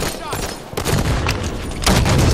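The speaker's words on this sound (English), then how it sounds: "Grenade incoming!" Explosions and bursts of gunfire from a Halo 5 online multiplayer match, loud and continuous with a sharp blast near the start and another heavy burst late, over busy game noise.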